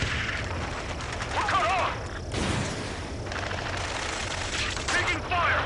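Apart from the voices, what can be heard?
gunfire in the video game Ace Combat 7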